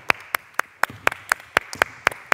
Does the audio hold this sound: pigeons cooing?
no